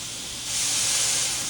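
Lion's mane mushrooms steaming in a hot pan as their water cooks off, giving a steady broadband hiss that swells louder midway and then holds, with no talking.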